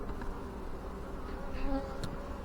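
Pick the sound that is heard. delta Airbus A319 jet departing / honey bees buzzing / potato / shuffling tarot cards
honey bees buzzing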